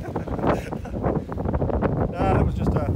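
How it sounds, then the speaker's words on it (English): Wind gusts buffet the microphone on an exposed mountain walk in snowy weather near Cradle Mountain, rumbling in uneven bursts with one stronger gust near the end, mixed with a person's voice talking. "that was just a slight wind gust"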